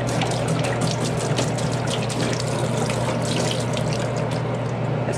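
Liquid pours steadily out of a hundred-year-old antique decanter, a continuous splashing, trickling stream heard up close for about five seconds, with no talking.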